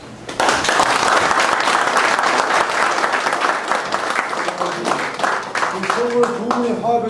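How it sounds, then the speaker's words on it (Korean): An audience at a Gyeonggi-do Taekwondo Association president election bursts into full, steady applause that fills the room. It thins toward the end as a voice begins speaking over it. "우리 저 그거에 박수 한번 쳐주십시오."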